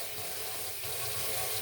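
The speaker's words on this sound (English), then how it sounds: "Just letting the water run a little bit" Tap water runs steadily into a kitchen sink being cleaned out, a constant close but fairly soft broadband rush with no voices.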